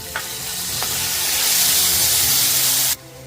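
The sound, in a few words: onion added to hot pan, sizzling (masala bhindi)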